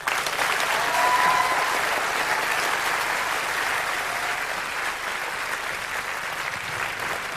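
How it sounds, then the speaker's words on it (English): A studio audience on a music television show gives sustained, full applause for a band, a broad steady roar of many hands that peaks early and then eases slightly while continuing throughout. "Give them a round of applause."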